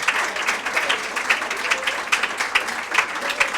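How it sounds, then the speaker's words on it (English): An audience applauds after a lecture on Philadelphia's private gardens, with steady, dense clapping from a crowd that swells in small bursts and sounds close and fairly loud throughout. "let's please give a huge round of applause for Nicole"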